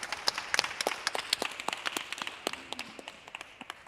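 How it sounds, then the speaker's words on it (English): Audience applause at a Filipino culture celebration for a poet about to read, a brisk patter of individual claps from a modest crowd, close and continuous, fading toward the end. "Please give a round of applause for Jared Maxilom."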